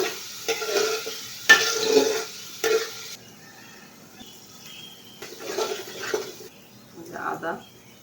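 Onions hit hot oil in a pot and are stirred, giving short bursts of sizzle and scraping separated by quieter gaps, close and fairly loud.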